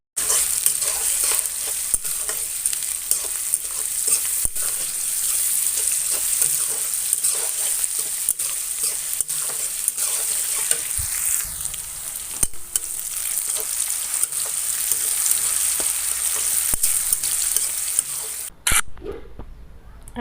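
Sliced onions with a pinch of salt fry in a pan for a broiler chicken curry, giving a steady close sizzle with occasional stirring scrapes. The sizzle runs for about twenty seconds before dropping away at the end.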